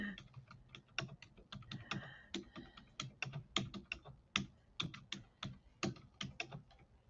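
Rapid typing on a computer keyboard, a close, steady run of crisp key clicks with uneven rhythm, heard alone without talk.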